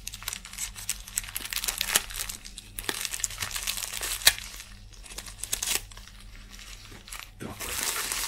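A parcel holding a key for a Ford Fusion car is unwrapped up close, with repeated bursts of crinkling and tearing wrapping and occasional crunches in an uneven rhythm.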